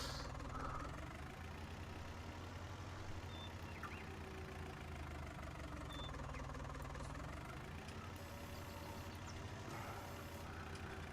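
A truck engine in a lumberjacking video game runs on at a steady, low, knocking idle for the whole stretch, with faint clunks and squeaks mixed in and no voices.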